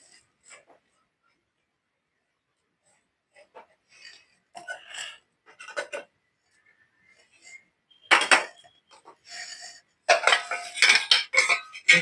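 Metal spoon scraping and clinking in a pan while mixing boiled chickpeas with chopped boiled egg, intermittent stirring strokes that grow louder and busier toward the end, alone and close.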